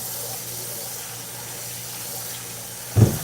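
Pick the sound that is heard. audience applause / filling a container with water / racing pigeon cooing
filling a container with water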